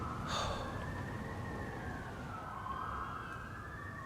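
A distant siren wails steadily, its tone slowly rising and falling, heard faintly over low background rumble with no talking.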